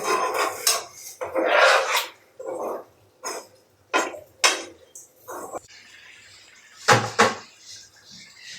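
Dishes clatter and scrape while being washed in a home kitchen, with irregular bursts of rubbing, knocking pots and clinking utensils separated by short quiet gaps.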